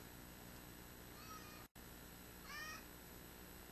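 A cat meows twice, faint and somewhat distant, against a steady hissing background with no talking.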